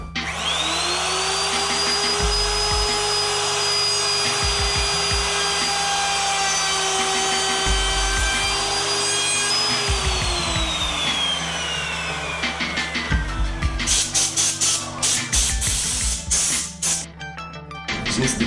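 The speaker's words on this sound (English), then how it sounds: "we're now going to cut the tails portion of the joint, starting from the left and moving to the right" A router-type power tool in a dovetail jig cuts the tails of a wooden dovetail joint, whining steadily at close range while passing left to right across the board, with bursts of rough cutting and rubbing noise toward the end.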